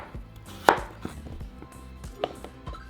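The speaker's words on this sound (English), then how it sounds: "we're going to cut them into small pieces" Peeled potatoes being cut into small pieces with a knife on a board, with a series of irregular, close chopping knocks, one sharper and louder than the rest.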